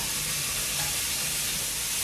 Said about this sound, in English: I think my cameraman is scared of the sizzle.